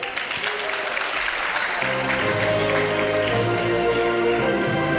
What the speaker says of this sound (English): Let's give some hand claps for all our declamation finalists.